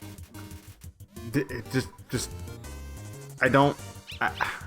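Lesser Dog from the video game Undertale gives short, chirpy barks and yips in bursts, mixed with game music and sound effects while a person talks over it.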